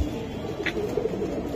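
Giribaz racing pigeons, top-quality line birds kept for flying contests, give soft, low cooing that murmurs faintly under a steady background hum.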